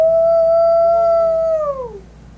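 A child imitates a wolf howl with one long, sustained high voiced tone that holds steady, then slides down and fades out, close and loud.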